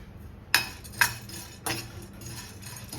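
About 25 grams of cloves drop into a pan for roasting while Goan garam masala is being made, making two or three sharp, bright clinks followed by a soft rattle, close and alone.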